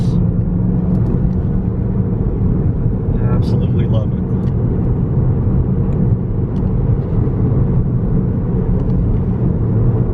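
A Volkswagen GTI Rabbit Edition drives on winding back roads, its engine and road noise a steady loud rumble inside the cabin while someone talks over it.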